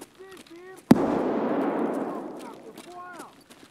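A single sharp gunshot in the Escape from Tarkov video game cracks out and rolls into a long, fading echo, between stretches of faint voice.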